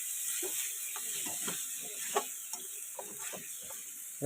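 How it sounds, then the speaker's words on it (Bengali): Melted mutton fat poured into a hot pot for mutton and coconut khurma, a steady hiss of sizzling with small irregular crackles and pops over about four seconds. "দেখুন পুরো চর্বিটা ঢেলে দিচ্ছি, চর্বি তেল পুরো ঢেলে দিলাম"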